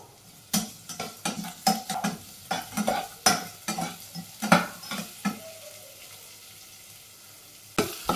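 Thin-sliced onions fry in a pan after garlic, with a soft sizzle beneath a run of close, rhythmic scraping strokes of a spatula against the pan that stop midway, then one last clack near the end.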